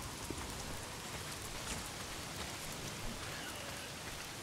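Steady rain falls in the video game Days Gone, a dense even hiss of drops on surfaces with no pauses, filling the whole moment without any voices.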